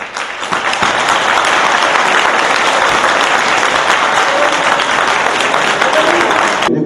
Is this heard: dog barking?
no